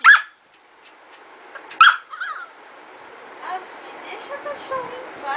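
Nina the dog lets out sharp barks and yips, with soft whimpers in between, close by in a quiet room while people talk in the background.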